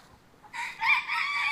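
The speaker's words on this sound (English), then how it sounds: "Chickens are waking up." A rooster crows on a farm, fairly close and clear, after a brief quiet moment, with no other sounds around it.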